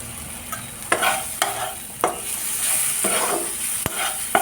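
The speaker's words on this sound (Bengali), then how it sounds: "এবার তো শীতলগুলো মোটামুটি ভাজা হয়ে গেছে, মশলাগুলো ভাজা হয়ে গেছে।" Fish and spices fry in a pan with a steady hiss, broken every half second or so by sharp scrapes and clacks of a spatula stirring, with no talking.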